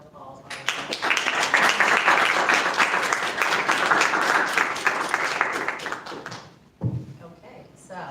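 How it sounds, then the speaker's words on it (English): Audience applause for a panel taking the stage for an afternoon discussion, a dense burst of clapping that swells quickly, holds steady for several seconds, then fades out before a voice speaks. "Please give them a round of applause"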